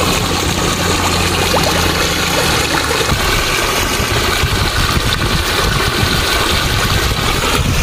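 Water pours into a village paddy field, a steady, loud rushing and splashing that carries on unbroken, with a low mechanical hum beneath it at first.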